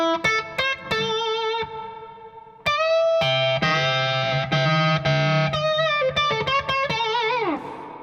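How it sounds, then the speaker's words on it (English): An electric guitar played through an EMT 140 plate reverb with the delay switched off rings out in sustained, slightly gritty chords and notes, each trailing into a lush wash of reverb, with no talking. "I'm going to add the additional reverb that you heard, which is an EMT 140."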